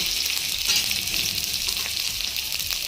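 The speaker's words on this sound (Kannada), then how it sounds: "ಕ್ಯಾಪ್ಸಿಕಮ್ ಈರುಳ್ಳಿ ಈ ಥರ ಒಂದು ನಾಲ್ಕರಿಂದ ಐದು ನಿಮಿಷವರೆಗೂ ಈ ಥರ ಫ್ರೈ ಆಗಬೇಕು" Capsicum, onion and green chillies frying in about three teaspoons of hot oil in a pan for a dhaba-style chilli paneer, giving a loud, steady, close-up sizzle with faint stirring scrapes throughout.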